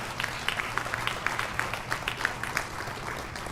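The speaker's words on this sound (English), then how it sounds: "Let's just stop there and give Art Rooney a round of applause" A room of attendees at a Pittsburgh Steelers press conference announcing the 2026 NFL Draft gives a round of applause, a fairly faint, steady patter of many hands heard from some distance.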